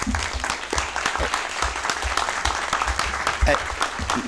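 School district board meeting audience in Decatur gives a round of applause, scattered clapping from a modest group with murmuring voices mixed in.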